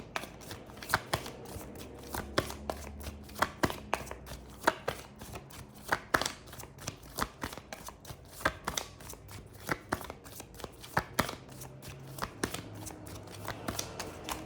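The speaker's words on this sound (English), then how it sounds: "I'm trying to split the deck" A deck of cards is shuffled and split, giving rapid, close, crisp riffling clicks and flutters in irregular bursts throughout, with occasional soft thuds of cards landing.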